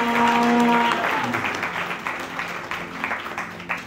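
A church congregation bursts into applause during a Sunday sermon marking Father's Day, loud clapping from many hands at first that gradually thins and fades toward the end.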